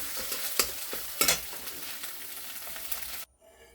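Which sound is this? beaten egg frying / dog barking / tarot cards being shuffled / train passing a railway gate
beaten egg frying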